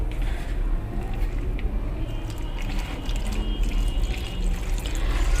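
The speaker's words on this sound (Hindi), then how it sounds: "अब हम इसमें थोड़ा थोड़ा करके पानी ऐड करेंगे और इसकी मिक्सिंग करते रहेंगे।" Water added bit by bit into pakora batter while it is mixed, close soft wet squishing and stirring that runs steadily throughout.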